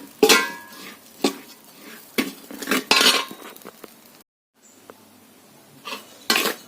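Scattered scraping and clinking of a spoon against a pan as flour from red parboiled rice is dry-roasted, irregular strokes at close range, with a brief silent gap partway through.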